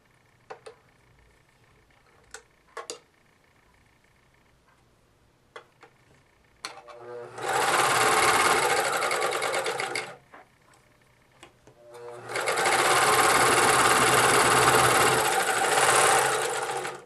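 A home sewing machine stitching a wig cap, two long steady whirring runs of fast needle motor noise separated by a pause, with a few light clicks and taps beforehand.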